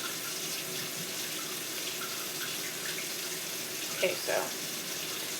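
A tap runs steadily into a sink while baby bottle parts are washed, a constant close hiss of water with a couple of brief clatters near the end and a voice speaking briefly.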